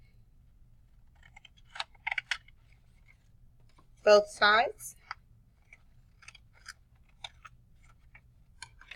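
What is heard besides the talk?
scissors cutting paper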